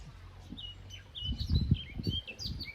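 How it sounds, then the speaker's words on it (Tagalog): Birds chirp and sing in short high calls outdoors near a creek, with low rumbling handling or wind noise underneath and no talk. "Sarap pakinggan ng ibon."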